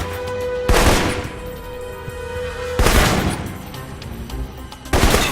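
Assault rifle fire in the video game Alpha Protocol comes in three loud, sharp bursts spaced about two seconds apart, each leaving a rumbling tail, with quieter game ambience between them.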